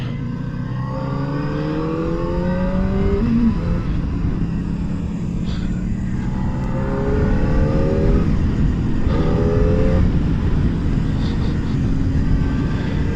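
Kawasaki ZX4-R motorcycle at full throttle, a loud high-pitched inline-four wail climbing through repeated rising sweeps as it revs and shifts, with no talking.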